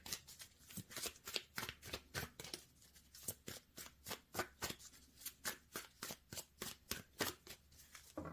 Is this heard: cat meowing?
no